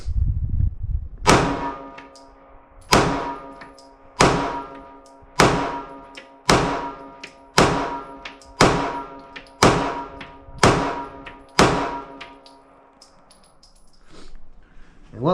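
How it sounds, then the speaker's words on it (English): A Ruger Security 380 pistol firing Blazer 115 grain full metal jacket rounds at a range: about ten sharp reports at a steady pace, each with a ringing decay, with no talk between them. "We're going to shoot this at the bottom right hand target."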